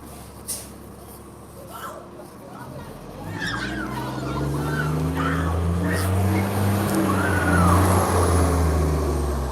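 A TTC 2006 Orion VII city bus pulls up amid traffic, its engine hum rising and swelling into a loud rumble with brake hiss, following a quieter stretch with distant voices.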